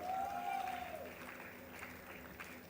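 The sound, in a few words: applause at a convocation ceremony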